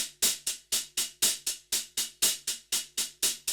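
Crisp hi-hat hits repeat in a steady, even eighth-note rhythm, bright and close, with no other sounds.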